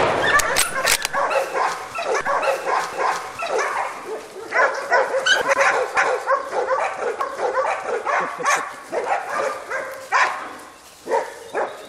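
Hunting dogs bark and yip continuously during a wild boar hunt in Croatia, a chaotic, close pack of overlapping barks with occasional whimpers throughout, and faint human voices mixed in.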